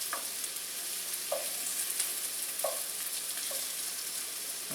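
Food sizzles steadily in a saute pan, a close, constant frying hiss with a few soft stirring knocks and scrapes at intervals.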